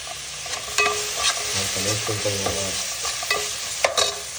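Tomato, coriander and green chili sautéing in a pan for prawn semiya, with a steady broadband sizzle, several louder clicks of a spoon scraping the pan, and a brief low murmur partway through.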